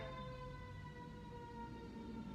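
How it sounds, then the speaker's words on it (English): A faint, distant siren passing through a residential neighborhood wails steadily over a low background hum, with no voices. "There's a siren riding through my neighborhood."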